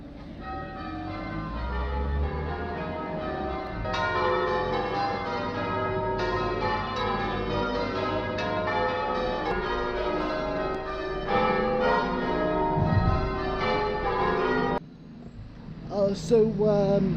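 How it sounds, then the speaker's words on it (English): Medieval church bells ring in the Chichester bell tower, a continuous dense peal of overlapping strikes, loud and close, stopping near the end as a voice begins. "these bells are also the only ones from those medieval times which is still running as well to this day"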